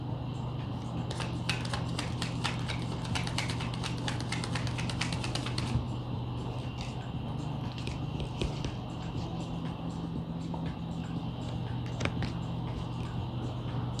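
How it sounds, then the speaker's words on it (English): Tarot cards being shuffled by hand during a reading, a dense run of quick papery riffling clicks for the first six seconds, then sparser taps and rustles, close and fairly quiet over a steady low hum. "Too many fell out. I'll shuffle it again."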